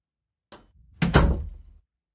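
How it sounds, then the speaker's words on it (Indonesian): A bedroom door slams hard indoors, a short first knock followed by a loud, heavy bang with a brief rumbling tail, then silence. "membanting pintu kamarnya dengan keras"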